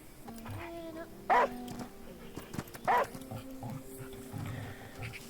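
A dog in the video game The Last Day of June barks twice, sharp and spaced apart, against a quiet game soundscape with faint tones and a soft murmur of talk.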